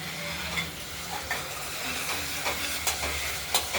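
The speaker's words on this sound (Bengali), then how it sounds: "কষাতে কষাতে তেলটা বেরিয়ে গেলে আমাদের কষানোটা শেষ হবে" Spice masala sautéing in hot oil for a simple rohu fish curry with potato, beans and tomato, a steady close sizzle broken by periodic scraping stirs of the spoon, no voices.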